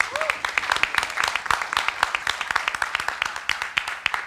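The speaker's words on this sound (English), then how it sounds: "please give a round of applause to our grand finalists" Audience applause greets the grand finalists of a high school debate final, a steady run of dense hand claps that stays fairly loud for the whole stretch.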